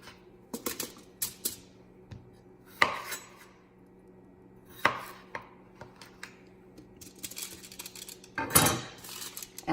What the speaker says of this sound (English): We just want to cut these up to be fairly uniform.